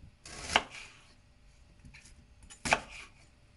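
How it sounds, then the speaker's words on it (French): Two sharp knife chops land on a cutting board as an onion is cut into small pieces for a Moroccan harira soup, each a crisp thud about two seconds apart in a quiet kitchen. "On va le découper en quatre, enfin en petits morceaux pour le mixer."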